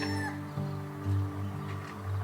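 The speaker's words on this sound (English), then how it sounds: "You hear Rooster in the background crowing his morning crow." A rooster crowing in the morning near an anchorage in the Sea of Cortez, a moderately near drawn-out crow with a few lower clucking calls over steady low background hum.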